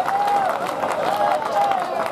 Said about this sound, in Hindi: तालियां कम बजा रहे हो आप लोग?